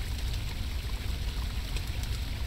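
Loud rushing water fills a cave in the game The Longing, a steady broadband roar with no breaks, close and continuous throughout.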